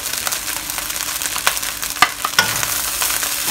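Chicken and salted fish fried rice with spring onions being stir-fried in a hot pan, a steady close sizzle broken by scraping and tossing knocks of the spatula, with no talking.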